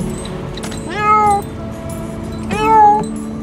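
A cat, newly adopted and being collected, meows twice, with two clear, fairly loud calls a second and a half apart over a quiet room background.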